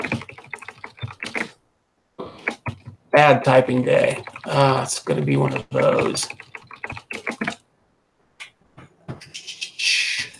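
Typing on a computer keyboard during a late-night astronomy photometry analysis session, with quick clusters of key clicks alongside talk and short pauses, fairly close.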